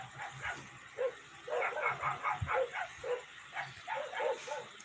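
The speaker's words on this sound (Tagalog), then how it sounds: "So yan, ang daming aso na." Many dogs bark and yap in overlapping, rhythmic bursts, a busy chorus of barks close by with little pause between them.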